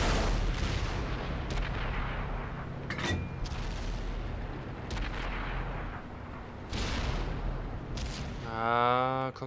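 Heavy tank cannon blasts in World of Tanks boom over a constant rumbling engine drone, several sharp shots spaced apart, with voices talking over the noise.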